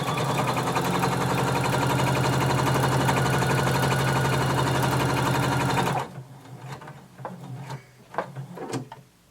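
A sewing machine stitches a bodice seam for Simplicity pattern 1276 View C, running in a steady, close whir for about six seconds before stopping, followed by a few faint clicks and handling noises.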